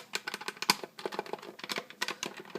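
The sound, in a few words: clicking buttons of a Nintendo 64 Arcade Shark arcade stick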